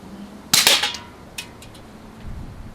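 An Umarex Markpoint break barrel pellet pistol fires a dome pellet at a can ten yards off: a sharp crack, a quick metallic ping, then quiet with a faint later clatter.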